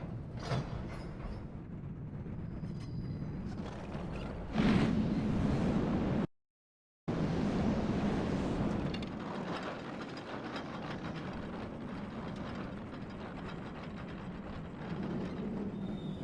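A train cart ride in the video game Riven rumbles and clatters continuously, with a louder surge partway through, a brief total dropout, then steady rolling rail noise.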